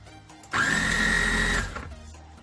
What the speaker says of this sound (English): We're pulsing the tabbouleh and trying to make sure that it all gets ground up